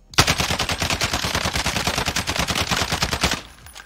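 Rapid automatic fire from an FN SCAR 17 rifle in Warzone, a dense unbroken burst of close, loud shots lasting over three seconds before cutting off, with no talk.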